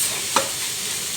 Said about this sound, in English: we're going to get that meat browned off in there with all of the vegetables